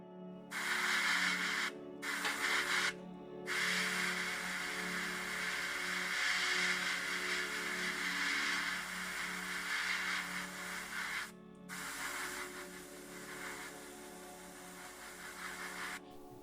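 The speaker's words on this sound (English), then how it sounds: "You have to paint a little bit and then dry so that the layer before is dry before you paint again." Car body paint hisses from a spray gun onto a Ford GT Heritage body in a steady, fairly quiet stream with a few brief pauses and an underlying hum of workshop equipment.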